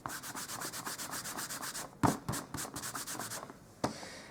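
An embossing buddy is rubbed back and forth over card stock in quick, steady strokes, with a couple of brief handling knocks between passes and no talking.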